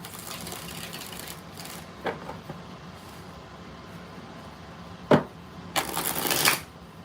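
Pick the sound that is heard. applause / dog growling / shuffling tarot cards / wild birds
shuffling tarot cards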